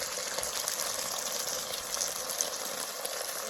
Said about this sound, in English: you pour in your sauce